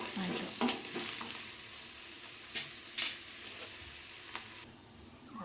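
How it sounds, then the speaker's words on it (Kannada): Oggarane tempering for Mangalore cucumber buttermilk sambar sizzles close and steady in hot oil, a constant fine crackle with a few brief spatter bursts, fading toward the end. "ಈಗ ಒಗ್ಗರಣೆ ಆಗಿದೆ. ಇದನ್ನು ಸಾಂಬಾರೊಳಗೆ ಹಾಕಿದ್ರೆ ಆಯಿತು."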